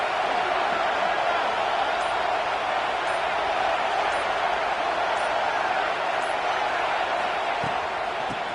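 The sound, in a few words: stadium crowd noise in NCAA 26 football video game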